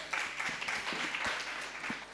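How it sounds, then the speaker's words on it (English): A panel audience at a disaster risk reduction event responds with a short, scattered burst of clapping and finger snaps lasting about two seconds, moderately loud and fairly close, with no talking over it. "Can you get some snaps for that or some claps?"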